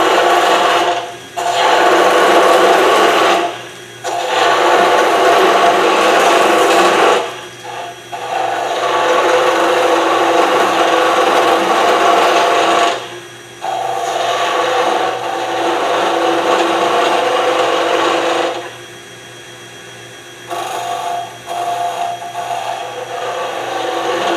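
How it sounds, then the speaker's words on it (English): A skew chisel cuts into wood spinning on a lathe, making a loud, rough scraping hiss in long sustained passes broken by short pauses between cuts, heard up close with no talking. "A skew is not real good with inside cuts like this."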